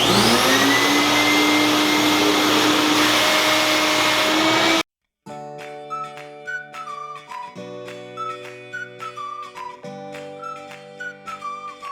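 A garage vacuum cleaner roars loud and steady at close range for several seconds. It then cuts out and gives way to a different tonal sound.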